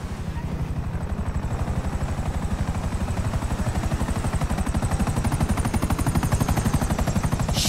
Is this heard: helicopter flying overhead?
yes